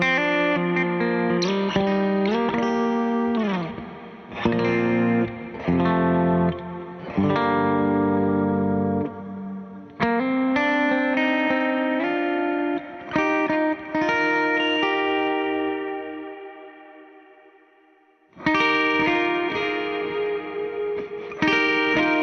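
An electric guitar played through a Mercury X reverb preset with the delay switched off: chords and single notes ring out with lush, distorted, chorus-like shimmer, one long note decaying slowly before the playing resumes.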